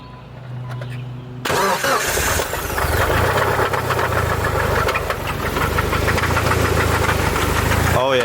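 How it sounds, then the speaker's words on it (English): A Mitsubishi Evo 4 engine with a possible rod knock that keeps stalling starts up and then runs loudly and roughly, a steady rapid knocking under a strained idle that goes on to the end. "it sounds like fucking rod knock and the car keeps stalling"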